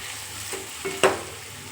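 Chilli powder being stirred into frying meat pieces for a Telugu-style tunakala curry, a soft steady sizzle with a few brief scraping stirs of a spoon against the pan, the last one louder and close.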